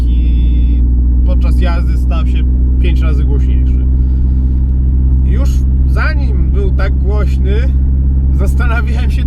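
A BMW E36 idles with a cracked exhaust giving a loud, rough rumble throughout, while a person talks over it steadily.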